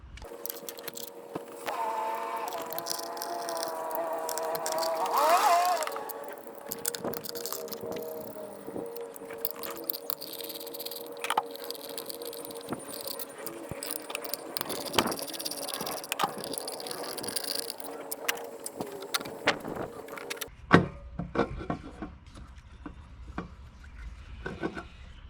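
Bolts being removed from the upper intake manifold of an engine during a valve cover gasket job: scattered metallic clinks, scrapes and tool rattles, close and irregular, with a short louder burst of rubbing near the start.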